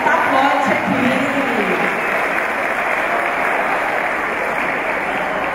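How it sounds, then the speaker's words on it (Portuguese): A room of attendees at a representatives' meeting gives a steady, dense round of applause, loud and sustained throughout without a break. "uma salva de palmas"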